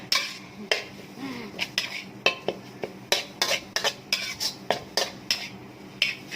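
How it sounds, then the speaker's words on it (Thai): Thai curry paste stir-fried in hot oil for a snail curry, with a spatula scraping and clinking against the pan in quick, repeated strokes over a faint sizzle. "ผัดเครื่องแกงให้หอมก่อนนะคะ"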